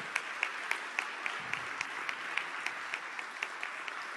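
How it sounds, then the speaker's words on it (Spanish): Sparse, rhythmic clapping from a small seminar audience, steady claps spaced evenly for several seconds, fairly faint and distant. "pido un aplauso para él"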